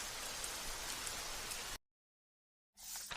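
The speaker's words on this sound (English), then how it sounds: "The rain cools me down." Steady rain hisses on a surface for nearly two seconds, cuts to silence, then returns briefly, fairly faint and even with no voices.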